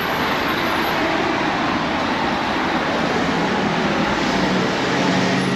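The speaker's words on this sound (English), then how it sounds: "So that's an EMT bus there, characteristically blue, and that was a bendy one." A noisy blue articulated EMT city bus passing on a street in Cala Mayor, Mallorca, a loud broadband engine and road rumble that stays close and sustained throughout, with no talk over it.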